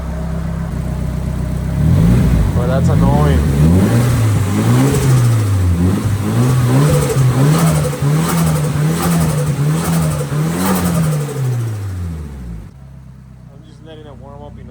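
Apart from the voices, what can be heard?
car with SR20 engine running and revving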